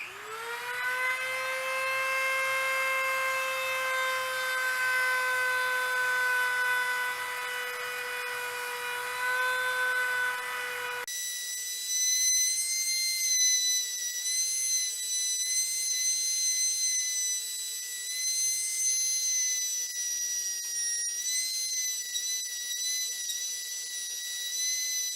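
A rotary tool fitted with a small rubberized abrasive point grinds along a crack, producing a steady, piercing high whine that shifts abruptly to an even higher pitch partway through and then runs on alone.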